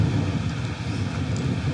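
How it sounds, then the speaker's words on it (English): Wind blows hard past the microphone beside a lake at Hot Springs, Arkansas, a steady low buffeting rumble that fills the whole stretch with no voices. "Ooh, it is windy down here."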